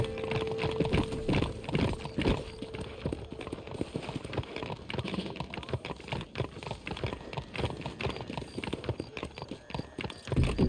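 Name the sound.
horse galloping in Red Dead Redemption video game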